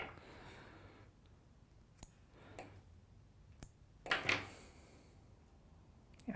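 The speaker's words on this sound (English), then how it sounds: "I'm going to actually go and kind of cut that to the size that I want" Scissors trim fly-tying material to size at a fly-tying vise for a Rogue Red Ant Skater pattern: a brief, close snipping burst near the middle, with a few faint ticks around it in a quiet room.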